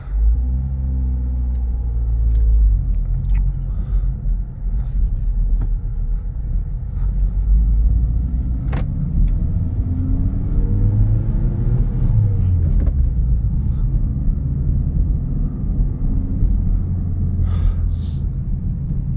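A 2021 Honda Civic Type R Touring pulls away in first gear, its engine giving a steady low rumble with road and cabin noise, close and continuous throughout.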